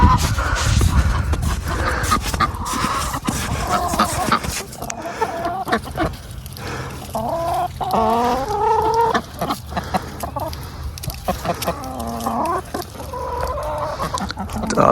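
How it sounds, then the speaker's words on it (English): Farmyard roosters fighting under a trampoline cluck and squawk in agitated bursts, close and fairly loud over a rustling, scuffling background, with steady outdoor noise throughout. "Under the trampoline, the roosters are fighting."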